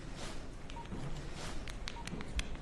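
Mobile phone keypad tones sound during texting in a classroom, a quick series of short electronic beeps at an uneven pace over a low room hum, with no talk.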